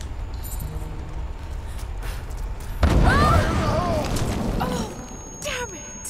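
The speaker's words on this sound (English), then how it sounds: "That was a big explosion." In Rise of the Tomb Raider, an explosion goes off with a sudden loud boom and a rumbling tail over ongoing game noise, while voices sound in the background.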